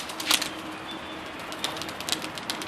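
Homing pigeons coo softly in a loft, faint repeated low calls with a few brief chirps and light flutters over a quiet background hiss.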